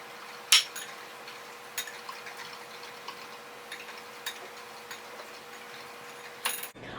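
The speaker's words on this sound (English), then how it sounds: "Now we're going to whisk that together until it's well combined." Dry ingredients for peach scones, flour, baking powder and salt, are whisked in a bowl: quiet, irregular light ticks and taps of a whisk against the bowl, with a sharper clink near the start and a soft steady hum underneath.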